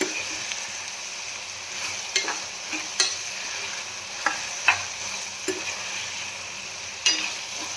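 A dry eggplant curry made with fresh eggplants is stirred in a pan. A soft, constant sizzle runs underneath while a spatula scrapes and clicks against the pan in sparse, sharp strokes.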